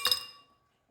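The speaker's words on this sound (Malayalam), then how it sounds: "നമുക്കിനി 2 ഐസ് ക്യൂബും ഇട്ട് കൊടുക്കാം" Ice cubes clink into a glass of cool-bar style lemon juice, two quick close bright knocks that ring briefly and fade.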